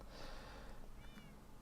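A cat in the video game Minecraft gives a single brief, faint meow partway through, set against a quiet in-game background.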